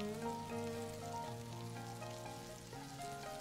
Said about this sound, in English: Stir that meat.